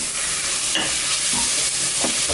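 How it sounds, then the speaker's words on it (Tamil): Fish biryani masala with mint is stirred and mixed in a frying pan, a constant sizzle broken by a few scraping strokes of the spoon. "எல்லாம் ஒன்றா மிக்ஸ் ஆகிற மாதிரி நல்லா மிக்ஸ் பண்ணிக்குவோம்."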